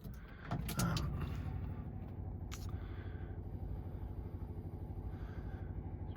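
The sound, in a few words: cold start of LS-swapped 2nd gen Firebird engine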